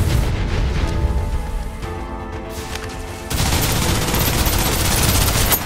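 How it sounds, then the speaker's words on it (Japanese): Sustained suppressive gunfire from the video game Snowbreak: Containment Zone, a dense, rapid, loud automatic barrage that swells briefly louder partway through, with no speech over it. "制圧射撃を始める。"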